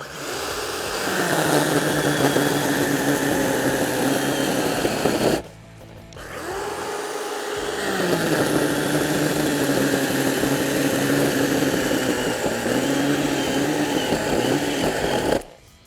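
A Pro-Craft 20V cordless brushless chainsaw, 38 model, cutting through wood, a loud steady motor whine that bogs under load, pauses briefly mid-cut, then runs on again.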